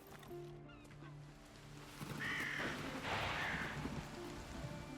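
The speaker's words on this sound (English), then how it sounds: "Scared off those birds, didn't we?" Crows caw in the video game Wartales after being scared off, a couple of calls rising over a steady rain-like ambient bed.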